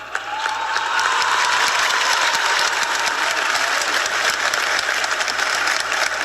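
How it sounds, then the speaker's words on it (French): An audience at a church celebration bursts into loud, sustained applause, dense clapping that swells quickly and holds steady with a faint low hum underneath. "on les applaudit très très fort"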